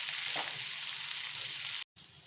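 Raw banana pieces frying in hot oil give a steady, close sizzle that runs without a break, then cuts out for a moment near the end before the frying noise comes back.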